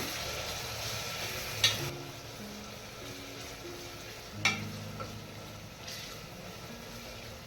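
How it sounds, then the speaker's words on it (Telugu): Chopped tomato pieces fry gently in a pan for prawn biryani, a soft continuous sizzle close by, broken by three sharp clacks of a spoon against the pan, with no speech. "ఇప్పుడు కట్ చేసిన టమాటా ముక్కలు వేస్తున్నాము. ఇవి కూడా కొంచెం మగ్గాలి"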